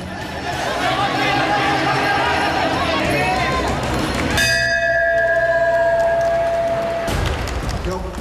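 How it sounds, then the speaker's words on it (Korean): A ringing bell clangs once at the start of a Muay Thai bout, its tone sustaining for a few seconds over the loud chatter and cheering of the crowd. "시작을 알리는 종소리와 함께 경기가 진행된다."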